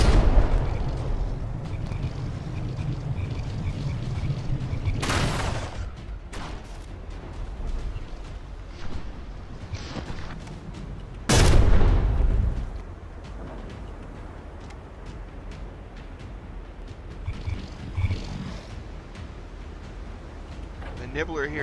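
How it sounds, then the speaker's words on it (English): Guns on a frigate fire fragmentation shells in the naval combat game From The Depths, two sharp loud blasts among softer booms and rumble, while someone talks over the battle for most of the stretch. "see those frag shells just rip apart the bow"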